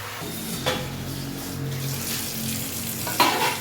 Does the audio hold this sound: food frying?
yes